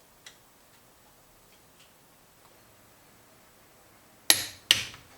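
A torque wrench tightens cylinder head studs in a quiet workshop, giving two sharp, distinct clicks close together near the end after a few faint ticks.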